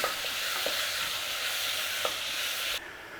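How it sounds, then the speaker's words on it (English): Onion and garlic fry in a pan for tomato soup, a continuous close sizzle with a few light stirring taps, cutting down abruptly near the end. "Start cooking out your rawness from the onion and garlic."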